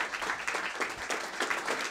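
Steady applause from a crowd, dense overlapping claps at a moderate level with no break for the full duration.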